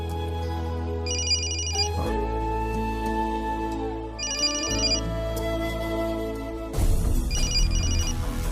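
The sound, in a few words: telephone ringing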